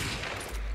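Automatic gunfire from a Call of Duty 4 tournament match, a dense burst of rapid shots packed into under a second, loud and continuous with a deep low-end thump.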